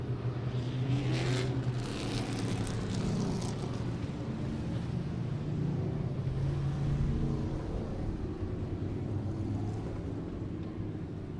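Fireball race cars roaring around the track at I37 Speedway, a continuous dense engine drone heard from a distance, steady and loud with wind buffeting across the whole stretch.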